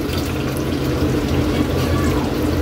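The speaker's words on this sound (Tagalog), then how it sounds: "At maglalagay tayo dito Kaylee ng tubig." Water pouring into a pot of chicken with chicken cubes, a steady continuous splashing stream close by, heard alone for a few seconds.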